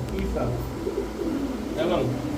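Soft, low pigeon coos repeat nearby at a pigeon market, partly covered by a man's speech and background chatter.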